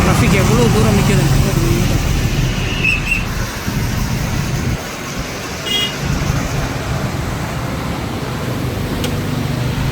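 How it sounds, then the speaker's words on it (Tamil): Roadside traffic stands backed up after a bus and tipper truck collision, with a steady hum of idling engines, a brief horn toot and distant vehicle noise, while people talk over it. "பாருங்க டிராஃபிக் எவ்வளோ தூரம் நிற்குது."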